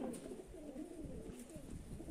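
Low, murmuring cooing from a large young male Mushaldom high-flying pigeon with thirteen tail feathers, near its final moult, repeats in soft pulses through the whole stretch without any talk.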